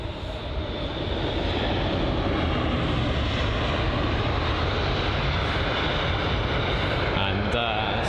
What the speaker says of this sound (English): So the American Airlines Boeing 777 on touchdown.